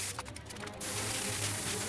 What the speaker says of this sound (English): I'm airbrushing them here with silver paint.